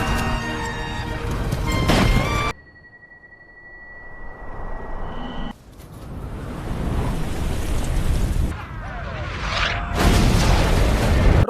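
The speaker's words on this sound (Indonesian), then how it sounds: "Ronald menembak puluhan dinamit yang sudah dipersiapkan sebelumnya." Loud explosive blasts from dozens of dynamite charges being shot in an action film scene, with heavy booming bursts opening and closing the clip and rumbling, noisy aftermath between them.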